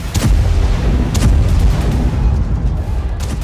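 A Russian 500-kilogram FAB-500 bomb explodes during a strike on a Ukrainian city, producing a loud, sustained roaring blast with deep rumbling that fills the whole stretch.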